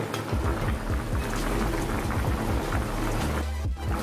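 A covered pot of chicken simmers on a medium flame, a close, steady bubbling and rapid popping that rumbles on without pause under a constant wash of boiling noise.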